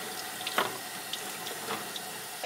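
Water runs from a tap to wet thin wooden guitar sides before bending, with a soft, steady trickle and a few light splashes, faint and close, with no talk.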